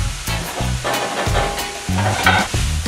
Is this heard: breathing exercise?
no